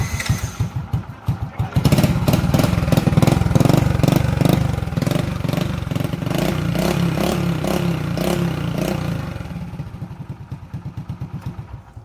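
Motorcycle engine coughing a few times, then catching and running loud with a rapid clattery pulse before settling into a steadier idle that tapers off toward the end.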